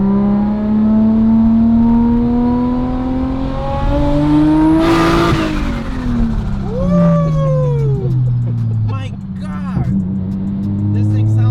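Nissan R34 GT-R launching hard, engine note rising steeply then dropping as it shifts, with whining harmonics sweeping through, loud and close inside the car, with brief voices.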